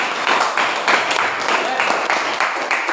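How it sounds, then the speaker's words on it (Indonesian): A classroom of students claps during a chemistry lesson, bursts of fairly close, uneven clapping over about three seconds, with voices mixed in. "Oke, kita berikan tepuk tangan."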